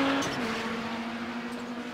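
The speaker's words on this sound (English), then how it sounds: "Sounds like the car missed a downshift" Race car missing a downshift during a Kamel GT Championship round at Monza, an engine note that drops abruptly in pitch then holds a steady strained drone, heard at a distance and moderately loud.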